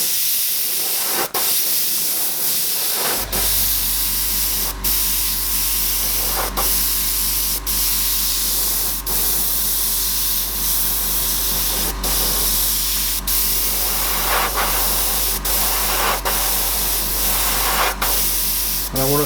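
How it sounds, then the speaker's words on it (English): An airbrush spraying paint for a Lest We Forget theme: a steady, close hiss over a constant low compressor hum, punctuated by short regular bursts as the trigger is worked. "I just want you to see what I'm actually doing with the airbrush."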